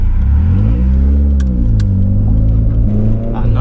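Deep engine drone of a modified 350 bhp Nissan Silvia S14A with rising and falling revs, punctuated by two sharp exhaust backfire pops close together, then another faint crackle near the end.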